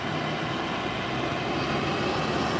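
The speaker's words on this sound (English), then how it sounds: "The Citation have hit the runway and is taxiing down" A Cessna Citation business jet taxis on a runway, a steady, fairly faint broadband engine whine and rush holding level at a distance with no voices.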